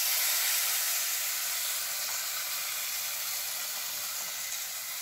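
Tamarind masala mixture poured into a simmering dry fish curry, a steady loud sizzling hiss that slowly fades, with no talk.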